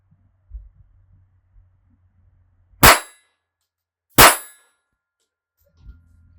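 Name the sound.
Beretta 950B .22 Short pistol shots hitting a steel target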